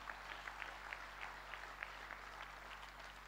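Faint, distant clapping from a church congregation praising God, with scattered individual claps standing out over a low, constant hum.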